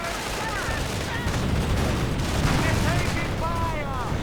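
Continuous loud gunfire and artillery booms fill a real-time strategy battle with tanks such as Hellcats, while a commentator talks over the dense fusillade.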